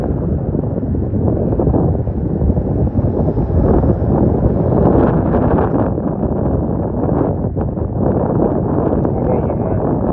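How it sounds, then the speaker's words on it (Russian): Strong wind buffeting the microphone outdoors, a loud continuous low roar and rumble with gusty swells that persists throughout. "Ветер."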